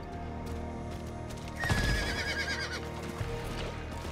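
A horse whinnies loudly partway through in the video game Diablo 4, its cry rising over steady hoofbeats and a low background hum.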